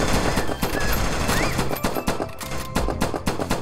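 Rapid automatic pistol fire in the game Neko Arena, a dense, steady stream of sharp shots with small pauses, loud and continuous for the whole moment.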